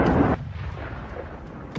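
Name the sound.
HIMARS rocket strike on a Russian howitzer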